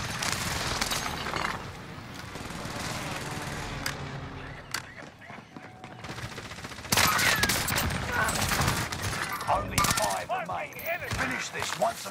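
Dense bursts of automatic gunfire crackle and rattle in a Call of Duty battle royale match, loud and repeated, with brief gaps and a faint voice underneath.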